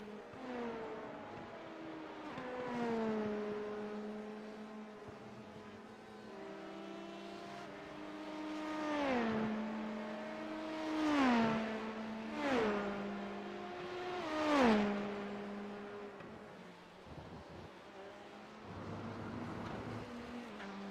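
GTE class endurance race cars in a sim racing game during pre-season testing, engines droning and shifting through gears with repeated rising and falling revs, several louder passes peaking in the middle, under calm commentary.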